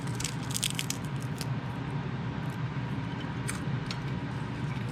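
Crunchy dehydrated cucumber chips bitten and chewed close up, a steady run of dense crisp crunches and squishy chewing with no talking.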